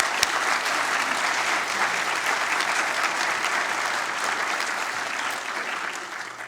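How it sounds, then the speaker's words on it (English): A large audience at a physician associate program's white coat ceremony applauds the stethoscope donors: dense, steady clapping that fills the whole stretch without a break and tapers slightly at the end, with no voices over it. "How about a round of applause for them?"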